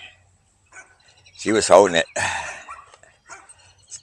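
Dogs on a walk give a few loud close barks and yips packed into about half a second, surrounded by quiet pauses and brief human speech.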